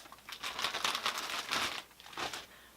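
A tarot card deck pulled from its packaging, giving a close, steady run of crinkling and rustling with soft bursts across nearly three seconds and no voice.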